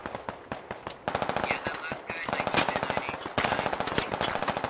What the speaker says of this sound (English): So they're shooting at the opposite ridge line.